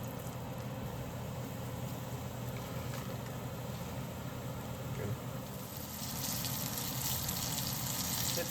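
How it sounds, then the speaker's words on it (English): Battered fish pieces with Cajun seasoning fry in hot oil in a pan, a steady sizzling hiss that grows brighter and louder toward the end. "Make sure you drop the pieces away from you, that way you're not splashing oil at yourself."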